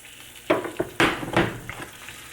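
Eggs cooking in a pan as they are flipped, several close sizzling bursts and soft scraping clatters over a quiet background, with no voices.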